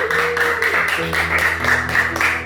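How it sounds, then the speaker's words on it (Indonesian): Children at an Easter school service clap together in a quick, lively rhythm of repeated hand claps, fairly loud and close, with some voices mixed in underneath. "Boleh tepuk tangan adik-adik?"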